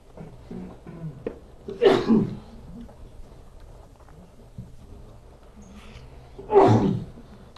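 A sneeze bursts out loud and sharp near the end, after a smaller throat-clearing burst earlier, set against quiet room background.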